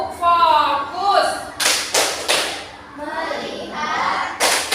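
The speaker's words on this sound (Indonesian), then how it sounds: "kita akan melakukan activity yaitu tepuk fokus" Children in an Indonesian classroom chant in unison and break into groups of crisp, rhythmic claps, two or three quick strikes at a time, alternating with the chanting.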